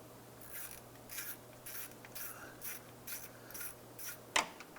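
A ratchet slowly snugs down bolts on a 2006-2011 Honda Civic power steering pump, giving faint, regular clicking strokes over a steady low hum, with one sharper knock at the end and no talk.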